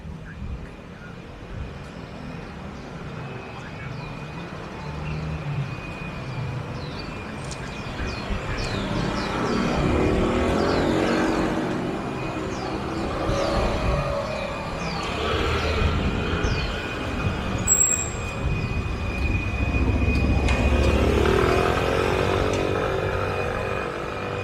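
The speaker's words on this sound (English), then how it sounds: "You can see there's a lot of traffic on the street." Busy street traffic outside a traditional market, with engines passing near and far in overlapping waves, a constant low rumble and occasional louder swells of vehicles going by, with no one speaking.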